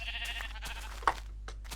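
Sheep in the Minecraft video game bleat in a few short, quiet calls over a low steady hum, with no talking.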